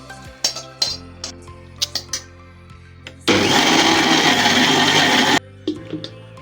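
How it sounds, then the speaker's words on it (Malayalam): A kitchen mixer grinder purees cooled tomatoes into a paste in one loud, roaring burst of about two seconds, with dish and lid clinks before and after and no talk. "ഇത് നമുക്ക് മിക്സിയിൽ നല്ലപോലെ പേസ്റ്റ് ആക്കിയിട്ട് വരാം."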